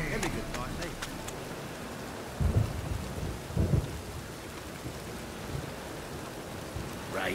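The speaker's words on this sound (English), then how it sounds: "Rain again. Damn mages." Steady rain falls through a thunderstorm in the video game The Witcher 3, with two low, rumbling thunder rolls booming out of the constant downpour hiss, plus faint scattered impacts early on.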